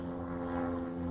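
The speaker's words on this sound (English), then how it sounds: "Excuse the helicopter." Steady low droning rotor and engine noise from a helicopter flying overhead, constant and fairly loud, with no talking.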